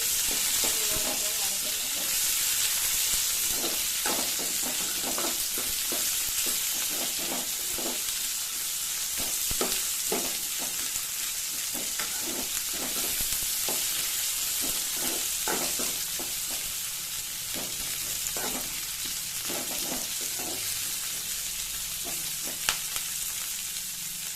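Chopped onion and green chili sizzle steadily in a hot oiled pan for a home-style Odia dahi baigana, a constant bright frying hiss broken by repeated scraping stirs of a spoon.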